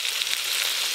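Meat frying in a pan with onion, ginger and garlic, giving a steady, close hiss and crackle of sizzling oil throughout with no talk.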